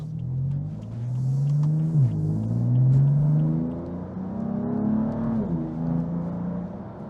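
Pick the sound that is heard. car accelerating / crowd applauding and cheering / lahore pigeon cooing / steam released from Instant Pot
car accelerating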